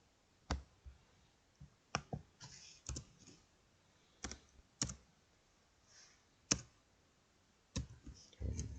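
Mouse and keyboard clicks in Android Studio come as faint, sparse, sharp ticks, sometimes single and sometimes in quick pairs, spaced a second or so apart in a quiet room.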